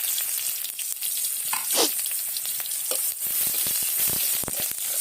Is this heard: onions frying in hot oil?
yes